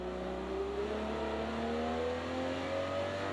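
Aston Martin DB11 engine in Project CARS 2 at Bathurst, a continuous revving drone with rising pitch as the car accelerates, loud and steady with no talk.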